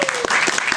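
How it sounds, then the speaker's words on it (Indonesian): Brief burst of audience clapping at a village community program presentation, a steady patter of many hands, moderately loud, with a faint voice line near the start. "Tepuk tangan dulu"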